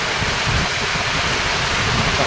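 Heavy, steady rain hisses without pause, loud and close.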